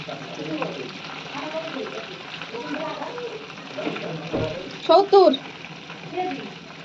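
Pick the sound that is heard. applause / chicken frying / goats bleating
chicken frying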